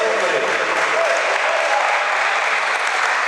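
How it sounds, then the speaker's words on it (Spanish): Steady, loud applause from a church congregation during a sermon, sustained without a break for a few seconds. "Denle un fuerte aplauso a eso"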